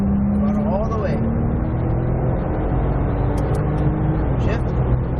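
A Porsche 997 Turbo under full throttle gives a steady engine drone with a slowly rising tone, running beneath continuous talk from a driver.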